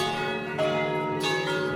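McShane church bells ring with sustained, overlapping tones, a fresh strike arriving about halfway through and another shortly after, each swelling over the lingering hum of the earlier peals.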